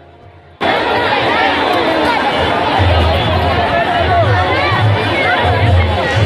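A dense crowd of rural pilgrims mills about at the Bhutnath fair, a steady close wash of overlapping chatter and shuffling babble that runs loud and unbroken after a brief quieter start.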